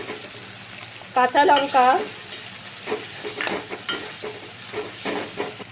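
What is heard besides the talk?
ginger paste and spices frying while being stirred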